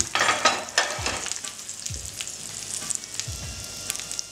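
Potato pieces fry in a pan with a steady, bright sizzle, punctuated by a few scraping stirs of a utensil against the pan, close and alone without talk.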